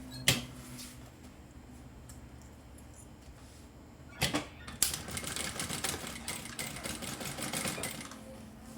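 Sewing machine stitching a cosmetic bag, quiet and steady at first with a few sharp clicks, then running as a close, continuous rapid stitching rattle for the last few seconds with no talk.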